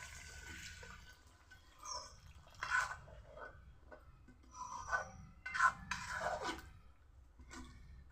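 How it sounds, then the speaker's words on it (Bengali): Water is poured into braised chicken for dum biryani, producing faint, intermittent splashing and wet scraping sounds in several short bursts over a quiet background. "এখন জল দিয়ে দিব।"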